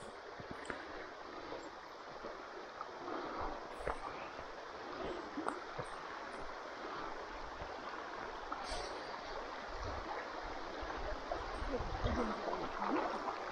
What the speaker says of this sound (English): I'll pour some more water on her